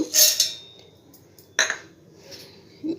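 Dal is spooned into a steel mixer jar: a few bright metallic clinks and clatters, a sharp one near the start and another midway, with quieter scraping between.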